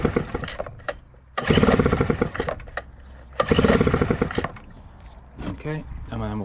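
Two long, loud pull-start cranks of a Yamaha Malta 3hp outboard engine, set to full throttle during a compression check, each a rapid chugging burst. A voice speaks in the gaps between the pulls.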